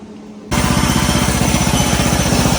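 Small engine on a homemade wakeboard winch sputters to life after a quiet start, then runs loud and steady with a rapid rhythmic chugging throughout.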